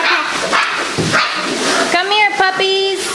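Puppies from a litter let out high, squeaky yips and whining cries close by, in short bursts. They are mixed with a person's voice and nearby handling noise.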